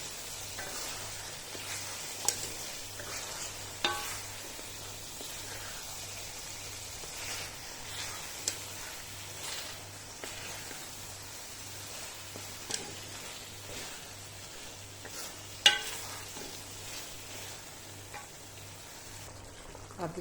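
Chicken soup ingredients simmering and sizzling softly in a pot, a steady low frying hiss with occasional faint clinks and stirring knocks, fairly quiet and continuous with no speech.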